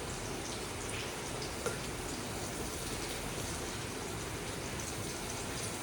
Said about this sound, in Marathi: कारण बाहेर पाऊस चालू आहे